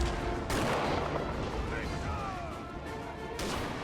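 Musket volleys and cannon fire crackle through a Napoleonic battle in Napoleon Total War, a dense continuous barrage with sharp bursts near the start and end, loud and close.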